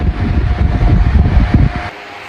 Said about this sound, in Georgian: ეს არის ახალი ვენტილატორი მეორე, რომელიც ასე საოცრად ატრიალებს თავის თავს.